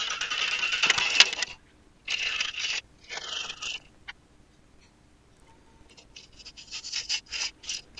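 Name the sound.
roughing down magnolia wood on a lathe with a spindle roughing gouge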